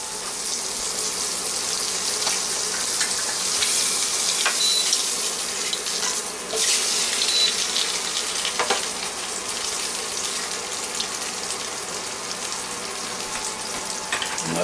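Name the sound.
eggs frying and being flipped in pan on induction cooktop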